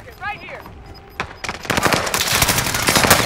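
In the Warzone video game, a light machine gun fires loud, rapid bursts that build into sustained automatic fire after a short pause, with a brief voice heard at the start.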